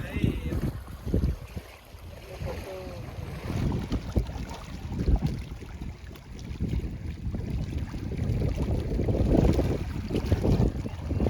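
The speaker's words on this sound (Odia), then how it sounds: "ପବନ ଦଉଛି ହାଲକା ହାଲକା ସୁଲସୁଲ ପବନ, ଥଣ୍ଡା ଥଣ୍ଡା ମଜା ଲାଗୁଛି ପୁରା।" A light, cool breeze blows at a dam in shade, with steady wind rumble and buffeting on the microphone throughout, loudest toward the end, with water and boat-like noise in the background.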